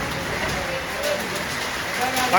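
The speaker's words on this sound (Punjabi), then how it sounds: "ਗੜੇ ਯਾਰ ਆ" Hail on tin sheets on a Punjabi farm makes a dense, steady rattling patter that keeps up the whole time, with voices faintly underneath.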